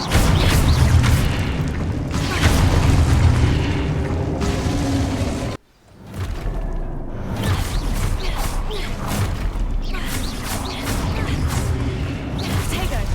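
Spell-casting combat in Hogwarts Legacy, dense booming blasts, whooshes and impacts layered continuously, cut by a brief drop near six seconds before resuming at the same intensity, with a player's voice calling out over it.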